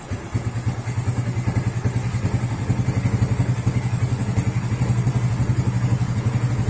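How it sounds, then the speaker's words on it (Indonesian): A motorcycle engine idles nearby in a steady, rapid thumping putter that holds an even rhythm throughout, with no talking. "langsung saja saya nyalakan motornya."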